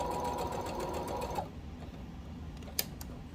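A sewing machine stitches fabric for an infinity scarf, its steady close whirring running for about a second and a half before it stops, leaving quiet handling noise and a brief click.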